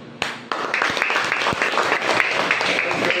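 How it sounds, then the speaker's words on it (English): A group of pupils claps hands in a classroom, a dense burst of applause-like clapping with sharp individual claps standing out, continuing steadily for a few seconds. "Why do we clap our hands?"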